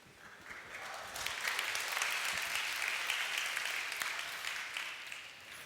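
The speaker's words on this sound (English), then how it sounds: "A little applause." An audience at an evening talk gives a fairly faint, distant round of clapping that swells after a second, holds evenly, then tapers slightly toward the end.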